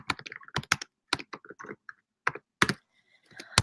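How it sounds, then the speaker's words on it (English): Someone types on a computer keyboard in uneven bursts of sharp, close key clicks broken by short pauses, with no talking. "you guys get to see how bad of a typer I am"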